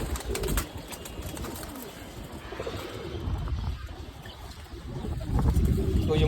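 Pigeons coo in a loft, their low rolling calls repeating steadily and close by amid a busy, noisy background.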